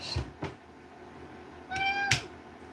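A house cat lets out a short meow near the end, preceded by a few soft knocks and thumps in an otherwise quiet room.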